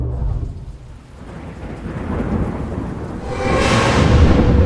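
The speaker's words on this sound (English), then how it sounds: "wind and rain" A thunderstorm with wind and rain keeps up a loud steady downpour hiss, and a deep thunder rumble rolls in and builds toward the end, with no voices.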